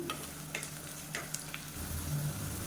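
Onions sautéing in a pan for a mushroom biryani and kurma, with cashews and salt added, give a steady sizzle with scattered stirring scrapes and clinks, close and alone.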